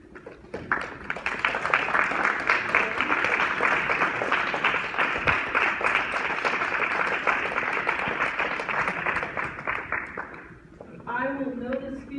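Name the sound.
commencement audience applauding families, friends and teachers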